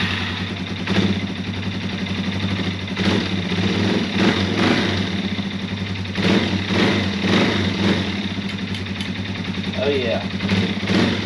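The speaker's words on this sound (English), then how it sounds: "Let's crank, see how she sounds, see if it cranks up, and look for some leaks." A Yamaha TW200 motorcycle engine, just fitted with a new cylinder base gasket, idles steadily and fairly loud throughout, with a brief voice over the running engine.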